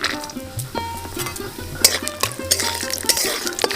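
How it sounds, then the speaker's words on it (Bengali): Raw peanuts fry in mustard oil in a kadai with a light sizzle, broken by several sharp clinks and scrapes of a spatula against the metal pan, with no talking. "কটা কাঁচা বাদাম আমি লাল লাল করে ভেজে নেবো"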